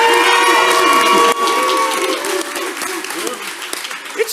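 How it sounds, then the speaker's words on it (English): A live audience at a show in Austin, Texas claps and cheers loudly, a dense wave of applause that fades gradually, with whoops and a voice breaking through as it dies down. "You're cheering louder for him."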